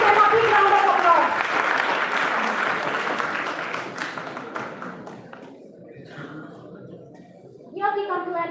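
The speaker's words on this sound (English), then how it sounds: "Give them a big round of applause" Applause from students and cadets at an interhouse school quiz competition, a dense burst of clapping that fades over several seconds, followed by a speaking voice near the end.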